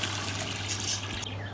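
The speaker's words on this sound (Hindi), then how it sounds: "ये यखनी डाल देते हैं।" Yakhni stock pours steadily into a pot of pulao, a continuous close splashing gush of liquid with no break.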